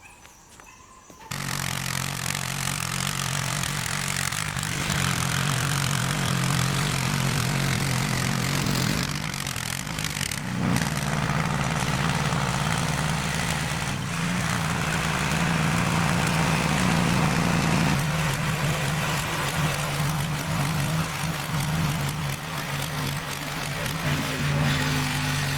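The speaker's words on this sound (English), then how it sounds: "I'm going to jump on the tiller and get to cultivating all this manure inside of the dirt" A garden tiller churning manure into soil starts up abruptly and then roars steadily and loudly for the whole stretch, its engine pitch dipping and surging under load, with no talking.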